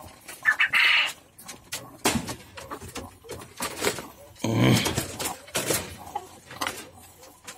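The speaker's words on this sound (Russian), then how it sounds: "Вот такой вот у меня петух." Irregular clucking and squawking calls from a rooster on a small poultry farm come in short bursts, close by, with rustling and scraping noises between them.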